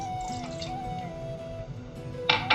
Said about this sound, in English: Pour the 1 glass water in the vessel.